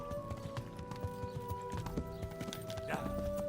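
A horse's hooves clip-clop at a walking pace in the medieval video game Kingdom Come: Deliverance, steady near footfalls over a faint ambient hum, with a short snort or whinny near the end.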